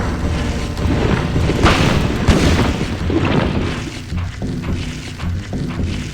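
Gunfire in the video game Silent Hill, a loud booming shot followed by thuds and rumbling game noise that fades over several seconds, no speech.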